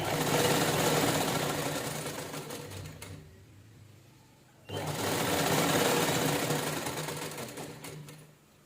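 Sewing machine stitching a straight trim strip onto a silk saree blouse, a loud steady whirring run that stops for about a second and a half, then resumes just as strongly.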